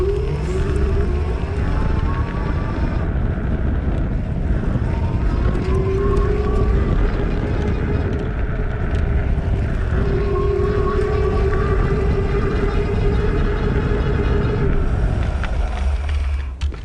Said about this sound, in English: I'm gonna pedal along in the highest level of assist and just try to demonstrate what the motor sounds like